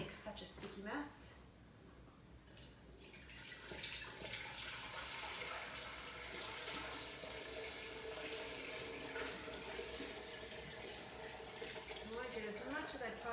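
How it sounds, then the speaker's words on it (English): Sweet pickle syrup drains from a container of icicle pickles, a continuous pouring, splashing flow that starts after a brief pause and runs steadily to the end, fairly close. "So first things first, drain the syrup."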